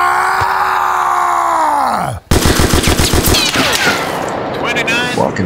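Automatic gunfire in a World War-era shooter battle set in Brest: a tonal drone cuts off, then rapid, loud repeated shots burst out, with screams and whistling sounds over them and someone talking at times.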